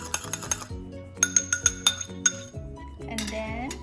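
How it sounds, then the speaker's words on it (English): Two egg yolks are whisked in a bowl, giving quick, bright metallic clinks and taps of a utensil against the dish, in short irregular bursts followed by a brief scraping swirl. "now we have 2 egg yolks that we whisk together,"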